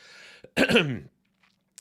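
A single harsh cough bursts out after a brief breath, then quiet with a faint click at the end.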